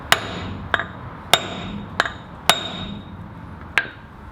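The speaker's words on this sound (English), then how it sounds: "Get a brass drift, sit him on the end, and a couple of quick whacks, and it should pop him out" Hammer striking a brass drift to knock out a cone washer during Land Cruiser 80 front brake work, six sharp metallic whacks at uneven intervals, close and loud, no talking.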